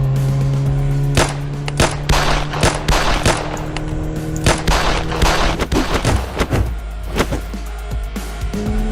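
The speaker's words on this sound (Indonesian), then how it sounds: "Ayo, cepat tembak dia." Rapid bursts of video game gunfire in a shootout, with loud sharp shots cracking in quick irregular volleys, some clustered like automatic fire, dominating throughout.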